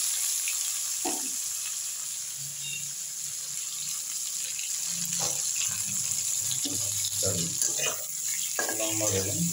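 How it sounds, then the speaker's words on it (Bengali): Long white aubergine pieces fry in oil after hilsa fish, giving a steady, even sizzle with faint voices now and then. "আগে বেগুনটা ভেজে নিই।"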